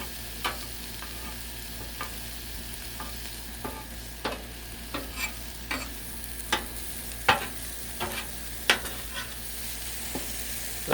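Peppers fry on a Blackstone griddle with a soft continuous sizzle, and a spatula scrapes and taps the flat metal surface every second or so, close up, with no talking.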